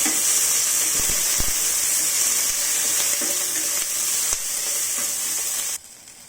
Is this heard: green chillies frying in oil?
yes